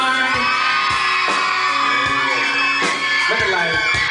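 Fan-club crowd at a live concert whoops, yells and shouts loudly and continuously, rhythmic bursts of cheering with a voice mixed in.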